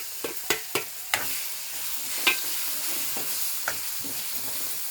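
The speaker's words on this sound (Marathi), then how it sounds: "हे सगळं झाल्यावर आता आपण ह्याच्यात टोमॅटो टाकूया." Tomatoes going into a frying pan and stirred for a dried prawn curry, a faint steady sizzle with a few sharp scrapes and clinks of a spoon against the pan, close up and without speech.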